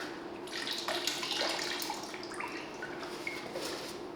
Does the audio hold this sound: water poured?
yes